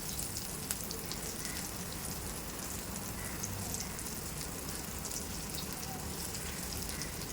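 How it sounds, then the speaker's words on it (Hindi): Eggplant (baigan) slices shallow frying in a pan, giving a steady, soft, continuous sizzle and crackle at low level, close by, with no talking. "अब यहाँ पे जो हमने ये बैगन रखे हैं इसके अंदर एक एक फ्राई करेंगे"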